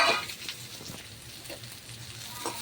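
Onion, potatoes and beans fry in a pan with a soft, steady sizzle, punctuated by a few faint stirring scrapes.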